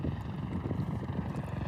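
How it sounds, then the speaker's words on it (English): A sightseeing helicopter flying over a Hawaiian island coast, giving a steady, rumbling rotor drone with a low throbbing pulse and no voices. "We got another helicopter coming."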